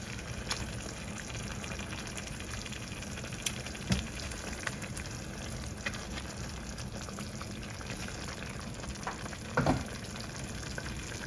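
Daing (dried fish) sauce simmering in a pan, a steady close bubbling and sizzling hiss throughout with a couple of faint clinks.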